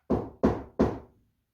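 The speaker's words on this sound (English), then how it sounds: "knock." Three firm knocks on a solid surface, evenly spaced about a third of a second apart, close and loud, each ringing briefly before silence.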